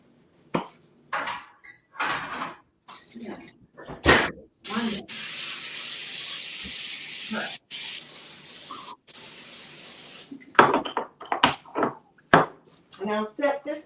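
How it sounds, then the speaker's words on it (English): Non-stick cooking spray hisses onto a baking sheet in one long steady burst of about six seconds, with short spurts before and after, while a person talks in a kitchen around it. "And it says to grease it with the non-stick cooking spray"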